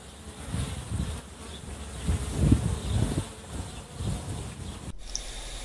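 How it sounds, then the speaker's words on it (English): Honeybees swarming at a hive relocated from a house, making a dense, continuous buzz that swells and ebbs close by, with a brief rustle near the end. "This is a honeybee hive I relocated from my house this summer."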